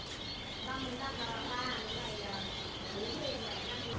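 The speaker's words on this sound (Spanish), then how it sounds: "Un pajarito muy pequeñito." Small birds in a Vietnamese exotic animal market chirp and coo steadily amid crowd noise, with a voice speaking over them throughout.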